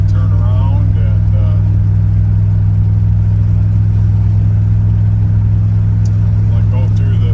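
Steady low rumble of a 1986 Dodge W100 truck engine while driving, loud and continuous with a deep droning hum, and a voice talking faintly over it.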